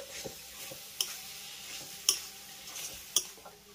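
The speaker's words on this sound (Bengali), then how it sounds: "সয়াবিনটাকে আমি মশলার সঙ্গে খুব ভালো করে মিশিয়ে নেব" Fried soybean chunks are stirred into cooked spice paste in a pan, with quiet scraping and a faint sizzle under three or four sharp metallic ticks from the spoon striking the pan.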